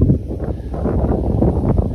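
Strong wind gusts blow outdoors around an isolated house in the middle of nowhere, loud rough buffeting and rumbling against the microphone with a steady rushing undertone.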